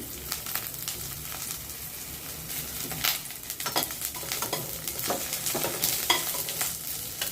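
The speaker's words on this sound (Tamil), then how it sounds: "வெங்காயம் நல்லா வதங்கி வரட்டும்" Onions sauté in a pan for white sorghum upma, giving a steady moderate sizzle with frequent spoon scrapes and stirring taps throughout, with no talk.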